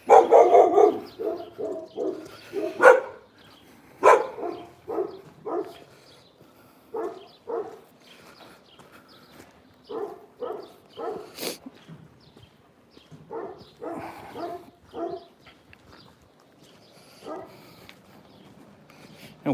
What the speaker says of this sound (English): Neighbour with a noisy dog.